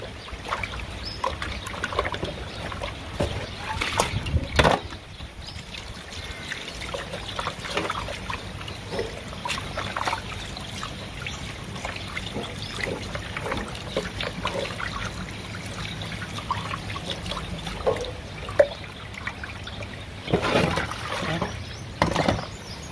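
Water runs and splashes continuously as something is rinsed, a steady close trickle with scattered clatter and splashes throughout.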